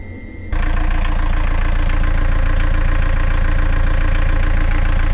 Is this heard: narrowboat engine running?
yes